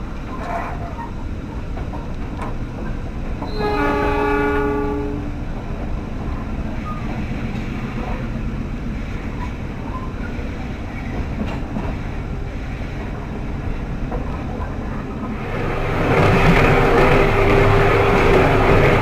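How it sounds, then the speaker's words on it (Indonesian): Arjuno Express passenger train pulling out of Bangil station, a sustained rumble of rolling stock with a brief tonal horn blast early on and louder wheel noise swelling near the end. "kereta api Arjuna Express diberangkatkan dari stasiun Bangil."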